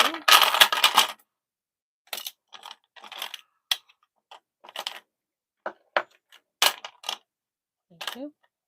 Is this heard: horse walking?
no